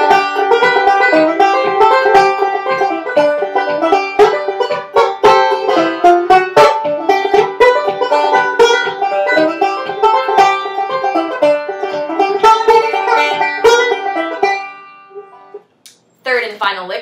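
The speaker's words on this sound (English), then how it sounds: "So I'll play an up the neck break to that, and you'll hear that lick when it comes in." Banjo playing an up-the-neck break to a song, quick bright rolls and chordy licks, close and lively, ending with a brief spoken voice.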